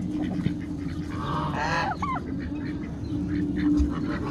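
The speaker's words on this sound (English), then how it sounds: "He's trying to crow again." A rooster gives a short, hoarse, strained call, rising and breaking off in an attempted crow, over quiet outdoor background.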